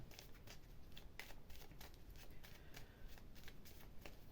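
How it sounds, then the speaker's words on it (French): A deck of oracle cards is shuffled by hand, close by but very quiet, making a run of soft, rapid, papery flicks and riffles. "Je mélange bien les cartes"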